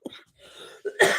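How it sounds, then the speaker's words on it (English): Two or three short, harsh coughs from a person with a cold, with a throat-clearing rasp between them, close and loud. "It's just the cough."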